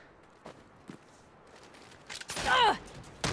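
A shotgun fires in the Saints Row video game, a loud blast with a ringing, swooping tail after sparse faint clicks and thuds, and a second sharp report at the end.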